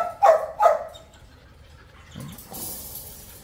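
Beagles at a breeding farm give two quick, sharp barks close by, followed by quieter rustling and faint background noise.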